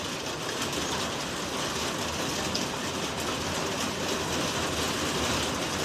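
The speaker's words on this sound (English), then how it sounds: "Here comes more hail." Hail pelts a house and its roof during a giant hailstorm, a dense, steady clatter of countless small impacts that fills the whole stretch without letup.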